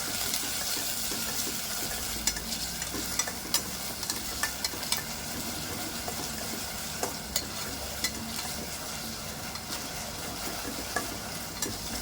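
Pieces of chicken for chilli lollipops are stirred with peri peri sauce in a pan, giving a soft continuous sizzle with scattered scraping and tapping of a spoon, close by and fairly quiet.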